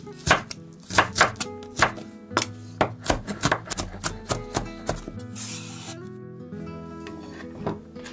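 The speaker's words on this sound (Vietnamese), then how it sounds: "Băm ra to to như thế này." Sharp, rapid knife chops on a cutting board as garlic and shallots are minced, an irregular close run of crisp thuds with brief pauses.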